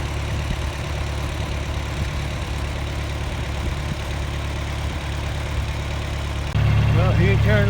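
A farm tractor runs steadily at idle near a cattle pen where a bull is fed hay bales, its low engine rumble continuous throughout and growing louder and closer in the final second.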